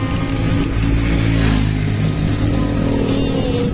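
A motorcycle passes close on a road, its loud, continuous engine roar and road noise dominating throughout, heard from someone riding an e-bike.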